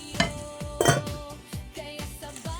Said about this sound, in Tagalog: tatakpan na lang ulit natin